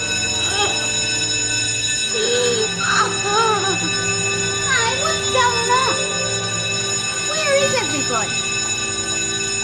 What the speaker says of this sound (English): Can't you hear the bell?